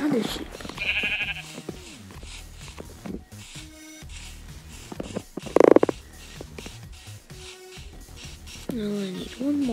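Sheep in the Minecraft video game bleating several times in short wavering calls, mixed with game sounds and a person talking over them.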